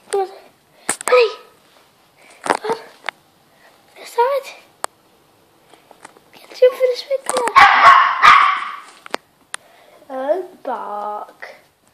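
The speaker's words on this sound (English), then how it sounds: "Bark." Yorkie dogs give short sharp barks and yips in scattered bursts, with a scuffling, growly flurry in the middle and a whining yelp near the end, while a person talks between them.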